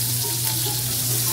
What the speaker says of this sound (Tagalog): ginigisa na ni Mrs. guys yung ingredients guys, yung bawang, sibuyas, sama-sama niya na.